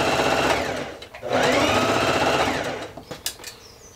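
A sewing machine runs in two bursts, stitching a tiny seam close to the waistband edge of a midi skirt, loud and steady, followed by a few light clicks as it stops.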